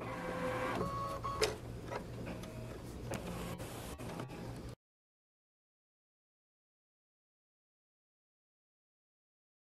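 Baby Lock Solaris Vision embroidery machine with a magnetic hoop stitching an edge-to-edge design, a steady mechanical whirring with rapid rhythmic clicks, close and continuous before stopping abruptly.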